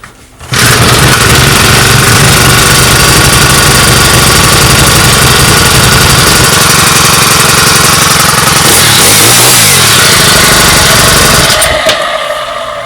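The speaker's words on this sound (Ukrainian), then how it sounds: "Зараз подивимося, як вона заведеться." Procraft T 5600 four-stroke brush cutter engine starts after a brief pause and runs loud and steady with a rough, rattling hum, the pitch wavering slightly as the throttle changes.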